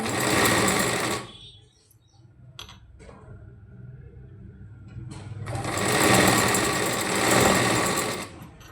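A sewing machine stitches lace onto a pentagonal neckline in two loud, rapid runs, a short one at the start and a longer one at the end, with quieter fabric handling and clicks between them.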